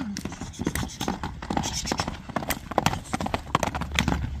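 Kyrgyz ulak horses from the Alai region clip-clop along with a busy, uneven patter of hoofbeats, close and fairly loud. Faint voices can be heard underneath.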